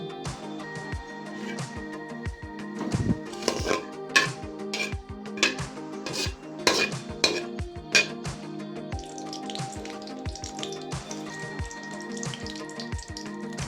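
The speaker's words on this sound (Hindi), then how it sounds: "हमारे जो ड्राई फ्रूट हैं उनको 2-3 मिनट तक अच्छे तरीके से भून लेंगे।" Dry fruits roast in oil in a pan, a close bubbling sizzle broken by repeated stirring scrapes and clicks of a spoon against the metal.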